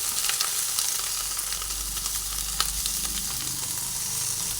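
Fried okra and egg sizzle together in a pan, a constant close hiss of frying with occasional clinks and scrapes as the mixture is stirred.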